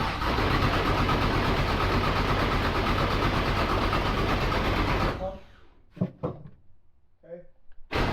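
A race car engine is cranked and roars loudly for about five seconds before cutting out, followed by quiet with a few brief voices and knocks.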